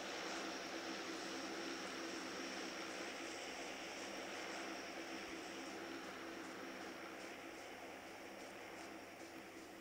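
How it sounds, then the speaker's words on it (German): A propeller airplane drones overhead in the video game PUBG Mobile, a steady distant engine hum that holds level and fades slightly toward the end, with no voices. "Oh, da ist irgendwas. Nee, Flugzeug."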